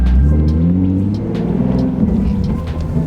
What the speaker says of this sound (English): Okay, first gear. Let's go.